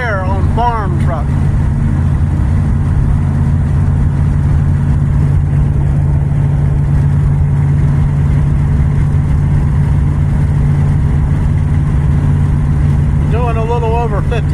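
A repaired farm truck's engine drones steadily as it drives on the road at a little over 55 mph, a loud, continuous low hum throughout, with brief voice sounds near the start and end.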